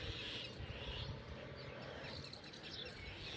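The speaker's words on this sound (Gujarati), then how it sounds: "આપણે સવાર થઈ ગઈ છે જોવો ને પક્ષીઓનો અવાજ આવે છે" Birds chirp on a village morning, faint high tweets scattered over a steady hum of insects, with no talk.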